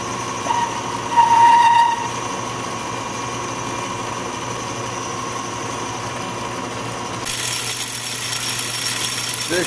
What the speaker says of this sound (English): So I'm going to cut it down to 1 inch initially.